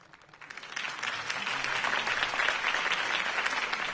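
Crowd applause in a video game swells in from quiet and holds as a dense, sustained wash of clapping.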